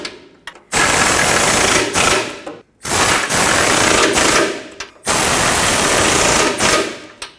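An impact tool runs down the oil pan mounting nuts with an 18mm socket on a 2009–2014 Ford F-150 with the 5.4L engine, three loud, close, sustained rattling bursts with short pauses between them.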